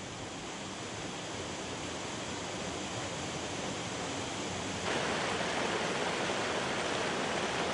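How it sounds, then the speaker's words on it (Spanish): Steady, full rushing of a mountain stream in El Curueño tumbling over small cascades, continuous and close, growing slightly louder near the end, with no voices. "Por todas partes se escucha el murmullo del agua, abundante y alegre."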